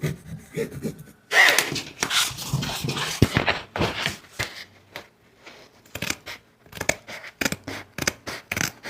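Scissors cut a paper template along a marked diagonal line, a series of crisp close snips and rustles of paper, irregular and clustered, with soft handling noises between cuts.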